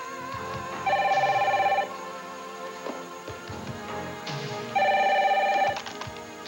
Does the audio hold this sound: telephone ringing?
yes